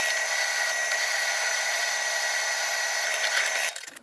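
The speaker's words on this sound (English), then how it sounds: "Now I'm going to chamfer the hole a little bit, just using a larger drill bit just to make it easier to get the pin in." A power drill with a larger bit chamfers a drilled pin hole during a tandem trailer restoration, giving a steady high whine that runs for nearly four seconds before winding down.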